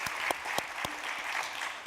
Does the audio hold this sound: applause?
yes